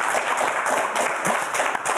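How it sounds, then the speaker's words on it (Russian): A studio audience applauds at a television broadcast, a dense, even wash of clapping held at moderate volume for the full two seconds. "По-моему, это достойно аплодисментов."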